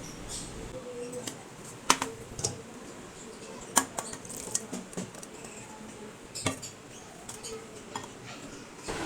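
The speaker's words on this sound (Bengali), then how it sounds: "একটু নুডলস রান্না করে নিলাম বয়ল করে নিচ্ছি একটু মশলা দিয়ে" Noodles are boiled with spices in a kitchen pot, with intermittent metallic clinks and scrapes of a utensil against cookware over a low steady background.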